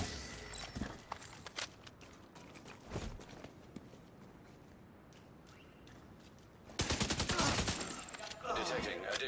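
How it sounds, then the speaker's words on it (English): Gunfire in The Division 2 during a casual PvE session, sharp scattered shots and bursts at moderate distance with a heavy sustained volley near the end, alongside footsteps and in-game radio chatter. "Who are you shooting at over there?"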